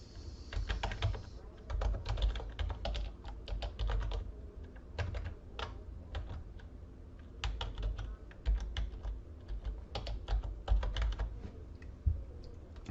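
A computer keyboard types out an email address in a rapid, irregular run of close, crisp keystrokes that continues steadily for the whole stretch, with short pauses and no voices.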